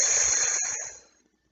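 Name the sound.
voice imitating a lawn sprinkler's steady whispering sound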